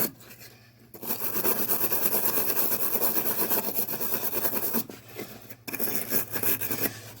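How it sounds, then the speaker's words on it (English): A wet wire brush scrubs steadily at a surface being cleaned, a dense continuous rasping that stops briefly twice, heard up close with a faint steady hum underneath and no talking. "wet the wire brush."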